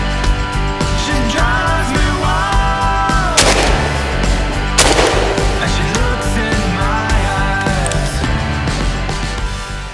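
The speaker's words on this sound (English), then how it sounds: "plenty of shots going off now" Shotgun blasts at a pigeon roost shoot in woodland, two loud close reports standing out over a dense, noisy background.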